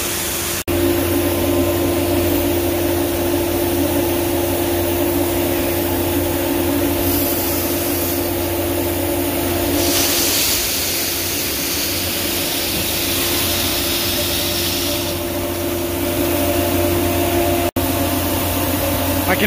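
Grain gravity-feeds out of an overhead bin into a truck on a farm, a steady loud rushing hiss with a constant machinery hum underneath, lasting throughout with small surges in flow.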